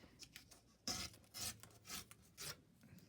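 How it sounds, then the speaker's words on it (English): Glued magazine paper being torn off at the ends by hand, a series of short, close, rasping rips separated by brief pauses. "flip it over, and as best I can, tear off my end bits"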